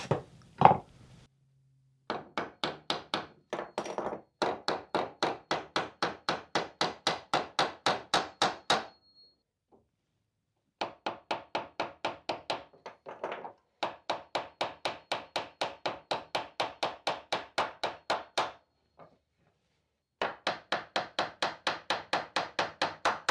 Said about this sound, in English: I just hold them in place with a pair of long nose pliers and tap them in